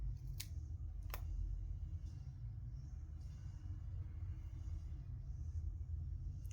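Scissors cut fabric for hand stitching, two sharp snips near the start standing out over a steady low rumble of background noise; no one speaks.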